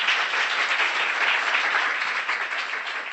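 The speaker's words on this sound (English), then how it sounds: "Give them a round of applause." Steady audience applause fills the room at an Amway event, a dense, even wash of many hands clapping at once, sustained without breaks and with no voices over it.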